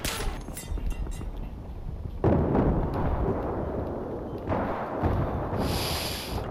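Grenade blasts in the video game Battlefield 3: a sharp explosion early, a heavier boom around two seconds in, and another near four and a half seconds, each followed by rumbling debris, then a brief hiss at the end.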